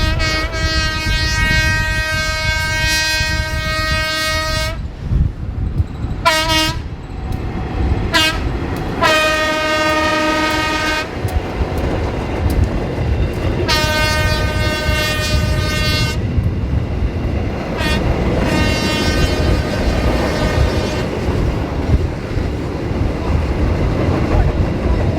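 A train rumbles past with rattling wheels while its horn blasts several times in long and short bursts, loud and close.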